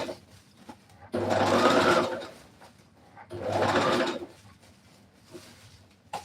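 A sewing machine stitches along the curve of a dress in two sustained bursts of rapid whirring, each about a second or two long, separated by quiet pauses with faint handling sounds.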